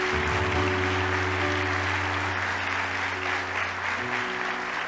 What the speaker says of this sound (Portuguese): Dan un fuerte aplauso, Señor.